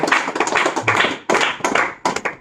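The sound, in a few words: audience clapping loudly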